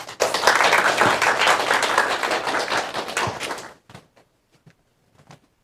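A lecture audience applauds to welcome a lawyer to the stage, giving a loud, dense round of clapping that fades out after a few seconds and leaves a handful of scattered claps.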